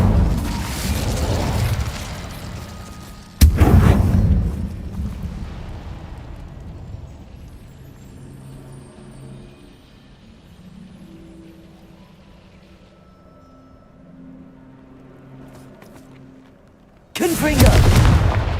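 Incendio fire spell cast in the video game Hogwarts Legacy: a loud roaring blast opens, a second sharp burst follows, then a quieter rumbling tail with faint tones, and another heavy blast at the end.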